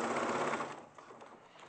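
A sewing machine stitches a seam on a bag, running loud and close at first and then easing into a fainter hum as it slows.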